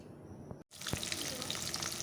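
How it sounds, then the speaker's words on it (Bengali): Foli and rohu fish fry in a pan, giving a steady moderate hiss and crackle that briefly cuts out, then resumes with scattered pops. "তো মাছগুলো ভাজা বসিয়ে দিলাম"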